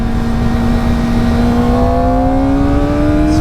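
A Kawasaki Ninja ZX4RR motorcycle engine whines loud and close on a damp road, its high-pitched tone climbing steadily in a smooth continuous rev.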